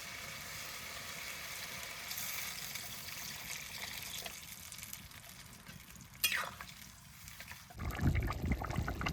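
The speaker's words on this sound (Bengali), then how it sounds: "এইবার জল দিয়ে দেবো" Water poured into a cooking pot on a home stove, a faint trickling pour over a low background hum, ending in a louder rushing splash near the end.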